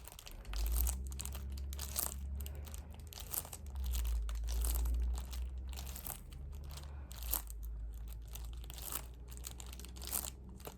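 Crinkling plastic wrap on a sealed secondhand video game case, handled up close in quiet, soft crackles and crunches coming in uneven bursts with low thumps of the case being turned.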